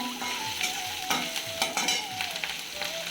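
Cumin and green chillies fry in a pan for banana flower curry, making a steady close sizzle broken by several scraping stirs of a spatula.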